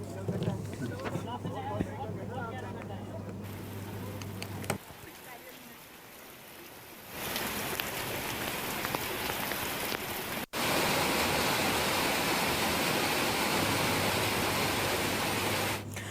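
Floodwater surges across a road that has turned into a pond, a loud continuous rushing wash that grows heavier partway through, with a voice speaking over it early on.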